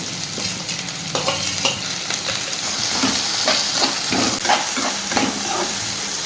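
Sliced onion and curry leaves frying in hot oil, giving a steady close sizzle broken up by stirring scrapes and clinks the whole way through, with no voices.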